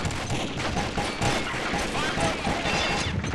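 Rapid gunfire bursts in a team-based tactical shooter match crackle continuously and loudly across the clip, with overlapping shots and a busy game-audio backdrop.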